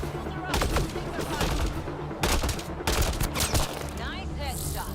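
Rapid bursts of gunfire crackle through a firefight in Mass Effect Andromeda, dense automatic volleys and sharp shots in clusters with brief gaps, loud and close over game sounds.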